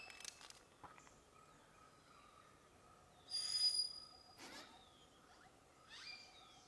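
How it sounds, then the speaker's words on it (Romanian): Faint, scattered bird calls chirp and whistle at a distance, with a louder burst of shrill calling in the middle against a quiet background. "ceva cu păsări, dar fac foarte mare gălăgie"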